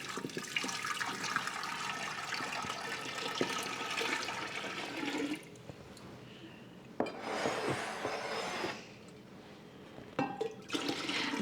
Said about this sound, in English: So I am actually putting in 14 cups of cold water.